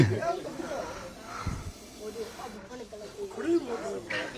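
A black cobra hissing during a village snake rescue, the breathy hisses coming in short bursts close to the listener, mixed in with people talking nearby.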